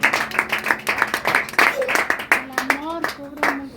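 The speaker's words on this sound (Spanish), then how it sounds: "Den un aplauso fuerte al Rey de Reyes." A church congregation claps during a sermon, giving brisk, fairly loud rhythmic applause with individual claps distinct, while voices talk and call out over it.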